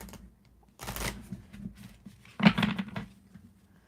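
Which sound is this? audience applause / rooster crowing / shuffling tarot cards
shuffling tarot cards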